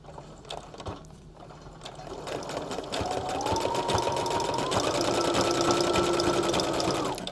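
A sewing machine runs close by with an overcasting head, stitching along the edge of fabric for a pen case, a steady whirring hum that picks up speed partway through, with faint clicks and handling noise.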